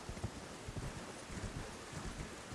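Horse hooves clip-clopping in the video game Elden Ring, a steady run of soft repeated hoofbeats over faint wind-like background noise, moderately close, with no talk.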